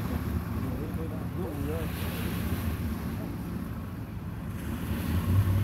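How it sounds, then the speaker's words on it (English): Ocean waves rolling and breaking along the shore, a steady broad wash near the microphone under wind noise, swelling louder toward the end, with a brief vocal sound partway through. "here come the waves"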